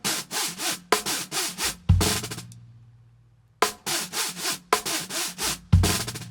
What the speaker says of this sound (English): drag your stick over the snare wires to create that scratching effect